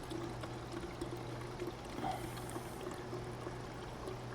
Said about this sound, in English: you fill that joker up with this fog juice